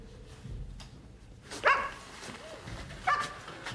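A dog gives two sharp barks a second or so apart, close by, against a low background murmur of a room.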